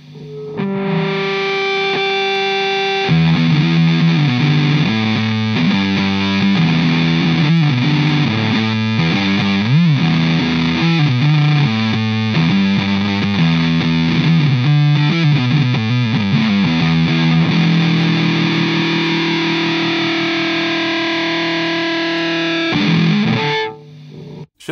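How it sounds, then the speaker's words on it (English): Electric guitar played loud and continuous through a Danelectro French Toast octave distortion fuzz pedal, thick saturated chords with octave overtones sustaining for over twenty seconds before cutting off, no talking. "Let's give it some more distortion, shall we?"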